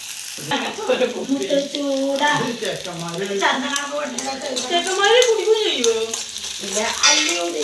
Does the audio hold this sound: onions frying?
yes